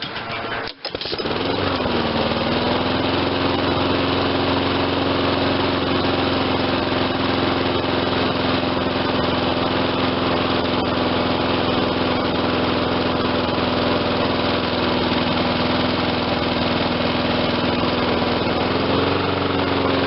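A Troy Bilt MTD lawn mower with a Honda engine runs continuously at a slow, low idle. It sounds loud and close, with a steady drone after a brief start-up catch at the beginning and no talking.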